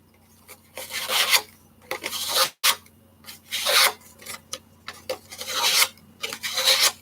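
A diamond painting worked by hand at close range, giving repeated scratchy rubbing strokes in irregular bursts separated by short pauses.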